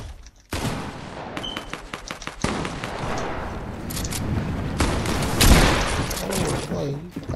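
Rapid bursts of gunfire from a Fortnite match, loud and close with dense crackling volleys and a few heavier booms, nearly continuous across the stretch after a brief quiet start.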